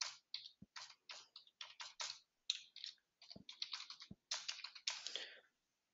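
Someone typing an email address on a computer keyboard, close, quiet bursts of quick key clicks with short pauses between groups.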